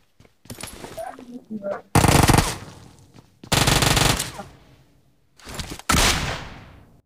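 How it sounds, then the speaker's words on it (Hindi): Gunfire from the mobile battle royale game PUBG Mobile / BGMI, with loud bursts of automatic fire in several separate volleys and brief gaps between them. "आगे से गोली चलने की आवाज आती है"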